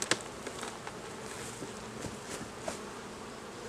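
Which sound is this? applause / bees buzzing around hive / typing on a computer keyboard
bees buzzing around hive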